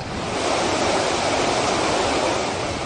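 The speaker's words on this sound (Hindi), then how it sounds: "लगातार हुई बारिश से नदी का पानी उफान मार रहा है" Swollen Rangeet river near Kirateshwar Shiv Dham in Sikkim rushing after continuous heavy rain, a loud, steady roar of churning floodwater with no talking.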